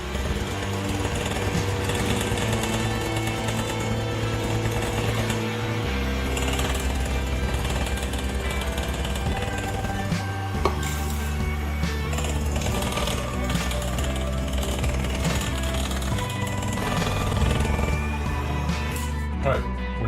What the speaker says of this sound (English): now we slow the mixer to the slowest speed and mix in the flour.